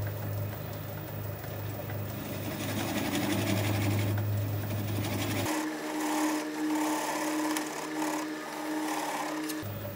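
Wood lathe slowing from one speed to a lower one while an out-of-balance wooden bowl spins, a steady whirring hum with rhythmic rubbing; the drone drops and changes pitch partway through, and no one talks.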